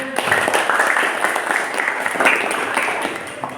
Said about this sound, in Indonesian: Coba tepuk tangan untuk kita semuanya